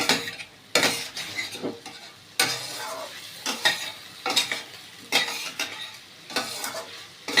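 Potatoes and egg bori stirred in a pan for a Bengali egg bori curry, a spatula scraping and clinking in repeated bursts over a steady low sizzle, close and fairly loud, with no voices.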